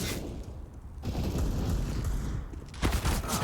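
Pistol fire rattles through a Counter-Strike round on the Overpass map in a pro league match, a continuous wash of gunfire with a burst of sharper shots near the end, moderately loud.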